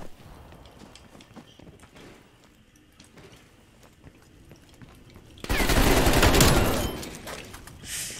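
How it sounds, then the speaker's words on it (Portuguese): An AK rifle in an online shooter game fires a loud, sustained automatic burst of about two seconds after a quieter stretch of background game noise. "Mano, essa AK aqui ela explode de pé"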